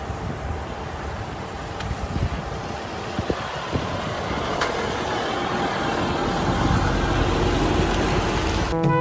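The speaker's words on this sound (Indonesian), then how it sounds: "Di sini ada truk katrol." A tow truck engine rumbles steadily nearby with wind buffeting the microphone, the low drone growing slightly louder toward the end, with a few faint knocks and no talking.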